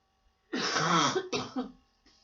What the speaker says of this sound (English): Excuse the spluttering coughing.